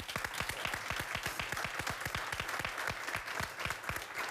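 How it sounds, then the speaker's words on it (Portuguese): A large audience applauds steadily to welcome Dr. Pedro Choy, a Chinese medicine practitioner, onto the stage of the Portuguese show Portugal no Coração, with dense, continuous clapping throughout. "Vamos receber com um grande aplauso este homem tão inspirador, Dr. Pedro Choi."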